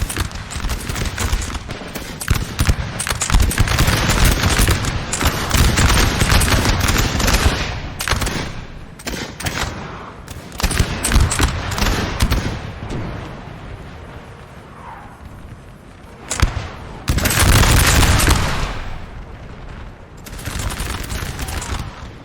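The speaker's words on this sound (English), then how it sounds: "they have some grenadiers now in the fight shooting" Grenadiers fire muskets in a Napoleon Total War battle, dense rolling volleys crackling almost continuously and loud, thinning out briefly before another burst near the end.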